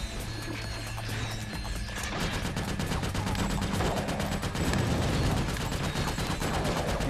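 Rapid gunfire from the Ratchet: Gladiator HD video game starts about two seconds in after a quieter stretch of game noise, then continues as a dense, steady stream of close, loud shots to the end.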